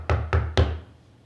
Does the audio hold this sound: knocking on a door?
yes